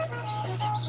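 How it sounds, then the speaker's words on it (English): Birds chirp in an animated short about a flock of small birds, with a few bright tweets and short calls over a steady low hum, fairly close and continuous for about a second. "Dorky Bird is going to fly over and sit right between them"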